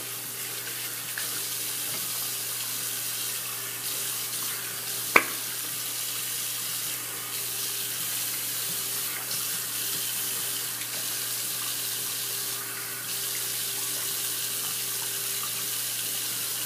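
Steady running tap water splashing over hands in a sink as soap is rinsed off, continuous and close, with one brief knock partway through and no talking.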